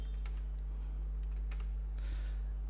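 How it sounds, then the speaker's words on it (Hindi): Keys on a computer keyboard are pressed while working in a Microsoft Excel spreadsheet, giving a few faint, sparse clicks over a steady low electrical hum. "कंट्रोल प्लस वन कीबोर्ड से प्रेस करेंगे"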